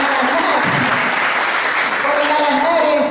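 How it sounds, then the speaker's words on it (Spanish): An indoor audience at a school maintenance event in El Seibo applauds, dense, steady clapping that fills the clip at close range, with voices mixed in under it. "Denle un aplauso, ¿eh?"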